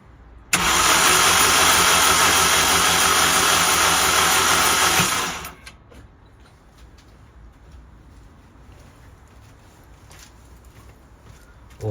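A Volkswagen Golf project car's engine being turned over by the starter for about five seconds, a loud steady cranking whirr that stops abruptly, followed by quiet background with faint bird sounds.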